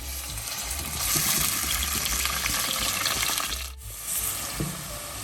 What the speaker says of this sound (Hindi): उसी ऑयल में हम अब गोश्त ऐड करेंगे